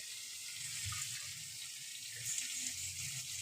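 Water runs steadily from a tap into a pan while mutton gujju is cooked, a continuous close hiss with faint low knocks and clatter beneath it.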